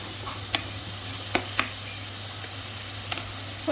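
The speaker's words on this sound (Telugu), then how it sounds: "ఉల్లిపాయలు వేసాను ఇప్పుడు టమాటాలు కూడా వేస్తున్నా" Tomatoes sizzle in a pan with frying onions, a soft steady hiss under a few sharp clicks and scrapes spaced out over several seconds, with no speech.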